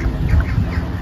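A duck at a country park gives soft, repeated quacking calls close by, set against steady outdoor background noise and a low rumble throughout the second-long stretch.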